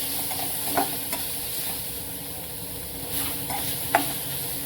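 Tomato and onion sautéing in a pan over medium heat, a soft continuous sizzle with a few spoon scrapes and stirring clicks on top.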